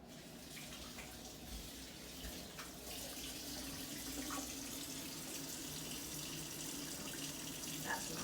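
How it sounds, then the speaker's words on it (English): Water runs steadily from a kitchen tap as hands are washed before cooking breakfast, a continuous soft hiss and splash with faint handling noises. "first I'm going to wash my hands."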